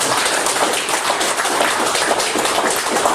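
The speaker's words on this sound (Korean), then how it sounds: "다시 한번 큰 박수." An audience at a Korean political speech breaks into dense, sustained applause, loud and even throughout with no voices over it.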